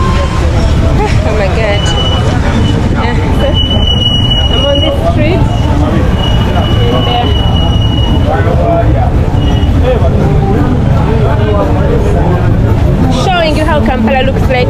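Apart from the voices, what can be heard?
busy street traffic in Kampala, Uganda, on a rainy day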